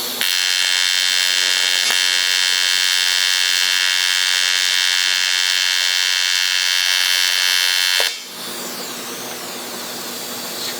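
TIG welding on thick aluminum at 200 amps: a loud, steady electric buzz and hiss that runs unbroken for about eight seconds, then cuts off and leaves a quieter background hiss.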